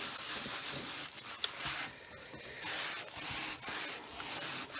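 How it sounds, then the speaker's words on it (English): A cloth wipes paint off a workboard while wooden pumpkins are being painted, giving close, continuous rubbing and scrubbing strokes with brief pauses between passes. "Wipe it up off my workboard."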